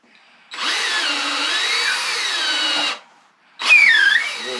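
A power drill spins a reamer slowly through a cork grip on a medium inshore saltwater fishing rod. It makes a steady whining grind for about two and a half seconds, pauses briefly, then starts again with a rising whine.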